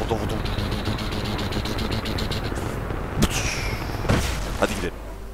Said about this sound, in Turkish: 40 top atışı yapacağım.